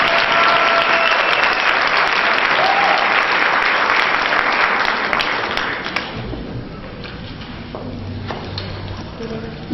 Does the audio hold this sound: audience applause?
yes